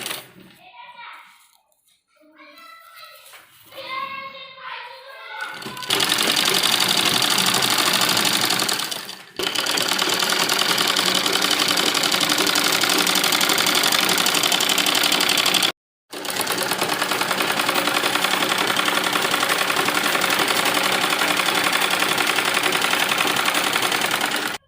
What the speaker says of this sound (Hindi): नीचे की तरफ पूरा मिलाते हुए कपड़े को हम चारों तरफ सिलाई लगाएंगे इसकी